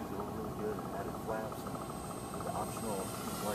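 A Parkzone Corsair RC model airplane flies overhead, its electric motor and propeller giving a steady droning whine that holds throughout, with people talking over it.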